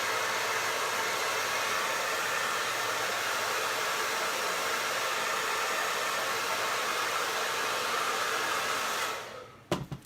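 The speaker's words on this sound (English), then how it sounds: "I'm gonna do it with the hairdryer right quick," A hair dryer blows hot air onto painted wood base coats, a loud, steady broadband rush running without a break until it switches off near the end.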